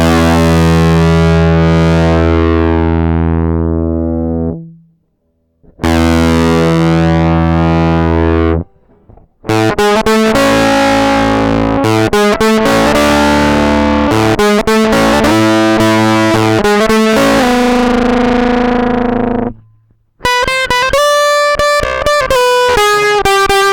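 An electric guitar through a DIY germanium Fuzz Face pedal built with a 33K resistor, giving a heavily distorted, buzzy fuzz tone: long sustained chords first, then choppy rhythmic strumming and brief gaps, loud and close with no talking.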